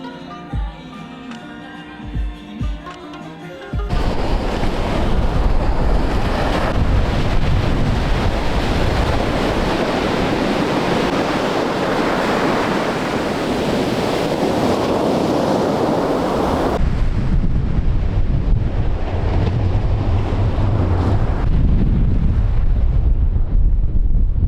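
Ocean surf and strong wind on a snowy coast in Japan, a loud, continuous roar of waves with heavy wind buffeting the microphone, following a few seconds of quieter ambience at the start.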